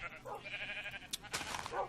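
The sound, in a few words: sheep bleating in video game Minecraft Better Than Wolves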